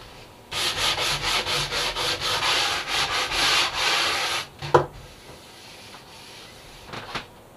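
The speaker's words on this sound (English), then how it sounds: "let's switch over to sanding" Rhythmic back-and-forth hand sanding on wood during a wooden boat restoration, about a dozen quick even strokes, then a couple of knocks and a softer scrape near the end.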